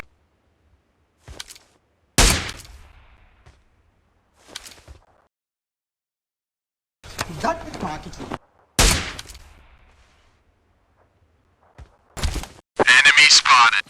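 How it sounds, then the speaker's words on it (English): Heavy machine gun fire in a mobile shooter game, several sharp loud bursts and cracks separated by quiet gaps, with a rapid sustained volley at the end. "Heavy machine gun."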